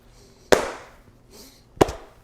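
A voice imitates the dull thud of a knockout punch in a fight, two sharp separate bursts about a second apart, with quiet between them.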